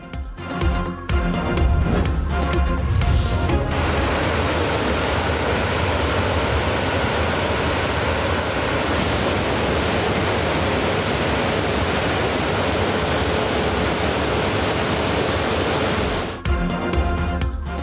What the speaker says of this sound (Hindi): पानी सड़क की तरफ बढ़ने लगा।